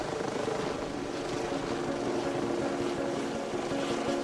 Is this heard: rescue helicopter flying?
yes